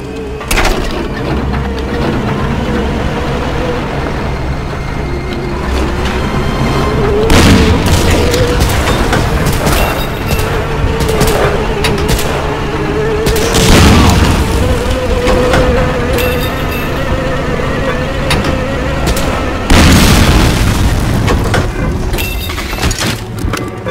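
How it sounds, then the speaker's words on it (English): Cannon fire and explosions in the World War II shooter Medal of Honor: Allied Assault, with repeated heavy booms and cracks over a constant buzzing din of battle, loud and dense throughout. "get on that cannon and take it out!"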